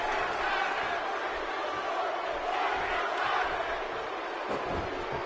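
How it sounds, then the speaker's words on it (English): A large arena crowd in WWE 2K17 chants steadily at a Cruiserweight Classic finale wrestling match, a dense continuous roar of voices with no clear breaks. "Crowd saying, let's go Tyler."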